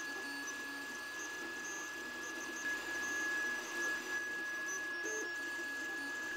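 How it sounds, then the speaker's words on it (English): An Anycubic i3 Mega 3D printer prints two objects layer by layer at 0.2 mm layer height with the extruder at 200 degrees Celsius, giving a steady, quiet motor whir with a constant high tone and small shifts in pitch. "the printer starts the job"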